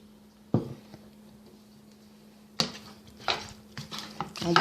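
Turkey pieces and onions are stirred in a pan, with a few sharp utensil scrapes and clanks against the metal breaking a quiet background hum and growing busier toward the end.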